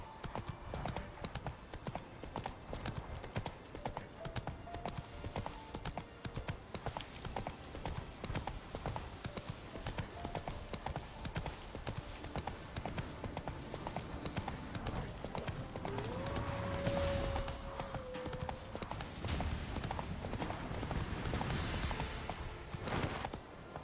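Roach, the Witcher 3 horse, gallops with a continuous rhythmic hoof clatter, joined by ambient game sound and a brief whinny-like tone near the middle.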